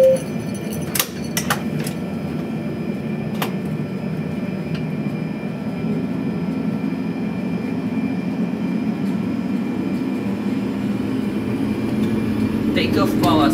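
Airliner jet engines spool up for takeoff, a steady rising roar filling the cabin with a few sharp clicks early on, as a voice talks over it.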